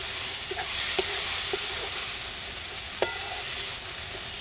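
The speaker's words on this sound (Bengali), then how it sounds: "এবার সবগুলো মশলা একসাথে ভালোভাবে কষাতে হবে।" Spices with turmeric and salt being sautéed in oil in a pan for a spicy sea crab curry, a steady hiss of frying broken by a few light utensil taps and scrapes.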